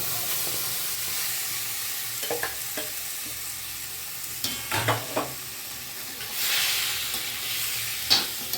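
Small mourola fish sizzle steadily in hot oil in a kadai, with occasional scraping and stirring clatter and louder spitting bursts near the end.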